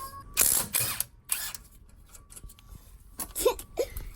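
Ratchet loosening the 18 mm brake caliper bracket bolts on a 2003 Ford F250 rear brake, short bursts of rapid clicking separated by pauses, close and fairly loud, with no talking.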